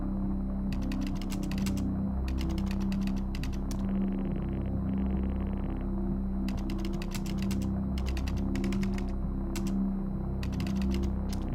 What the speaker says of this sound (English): It didn't let me finish typing.